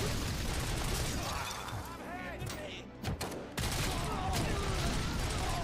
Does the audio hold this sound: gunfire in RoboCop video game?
yes